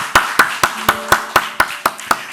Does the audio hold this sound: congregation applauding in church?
yes